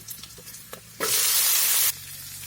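Peas are tipped into hot oil with fried onion, ginger, garlic and tomato, setting off a sudden loud sizzle that lasts about a second before dropping back to a quieter frying hiss with light stirring.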